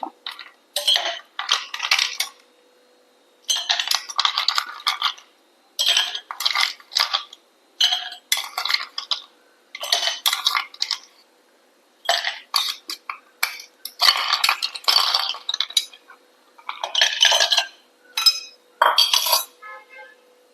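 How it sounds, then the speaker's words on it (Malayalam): Bursts of clinking as ice cubes tumble into a glass of lemon juice, repeated many times with short quiet gaps between. "ഇനി ഇത് നമുക്ക് ഗ്ലാസ്സിലേക്ക് ഒഴിച്ചു കൊടുക്കുക അപ്പോൾ ഇതിലേക്ക് ഐസ് ഇട്ട് കൊടുക്കുക"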